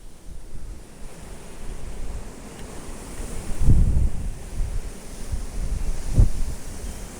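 Strong wind blows across a lakeside spring fishing spot, a steady rushing roar with heavy microphone buffeting and low gusty thumps around the middle and near the end, no speech heard.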